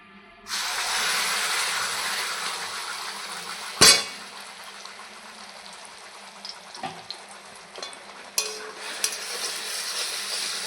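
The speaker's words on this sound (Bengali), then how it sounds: "ওই তেলেই দিয়ে দেবো 2টো তেজপাতা। যে মশলাটা করে রাখলাম দিয়ে দিব।" Two bay leaves and a prepared spice paste hit hot oil left from frying potatoes, setting off a loud, sustained sizzle, with a sharp utensil clank early on and a few lighter clinks later.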